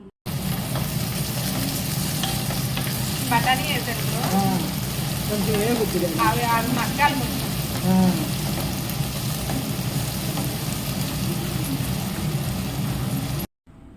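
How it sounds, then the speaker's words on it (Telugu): Onions and green peas frying in a pan, giving a steady, close sizzle throughout with occasional stirring, while a voice speaks briefly over the cooking. "ఆనియన్స్ కొద్దిగా మగ్గిన తరువాత పచ్చి బఠానీ కూడా యాడ్ చేసుకుని పచ్చి బఠానీ కూడా మగ్గేంత వరకు కుక్ చేసుకోవాలి"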